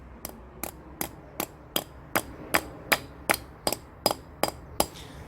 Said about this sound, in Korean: 이거는 망치로 그냥 때려 주셔도 됩니다.